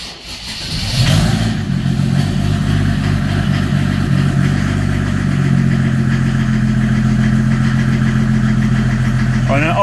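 An OM606 diesel engine in a converted 4x4 Trafic/Vivaro campervan cranks and fires about a second in, then settles into a loud, steady, close-up idle with a throbbing rattle that holds for the rest of the clip.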